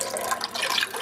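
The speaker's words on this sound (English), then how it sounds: "now I'm adding the lye water to the oil" Lye water streams steadily into oil in a home soap-making batch, making a soft, continuous liquid trickle and splash that stays fairly close and quiet for about a second.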